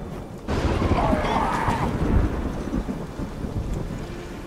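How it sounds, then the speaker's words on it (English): A powerful magic explosion in The Witcher 3: Wild Hunt, heard as a loud, deep rumbling boom that starts abruptly and rolls on like thunder, sustained and echoing throughout. "A magic explosion of some sort."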